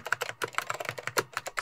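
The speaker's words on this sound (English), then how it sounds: "keyboards," Quiet, rapid typing on an office computer keyboard, a steady run of close, crisp keystrokes with a slightly uneven rhythm.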